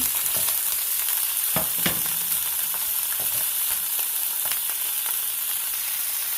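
Minced garlic and vegetables frying in a pan for a spicy Korean fish stew, a steady loud sizzle with occasional stirring clinks and scrapes, no voices.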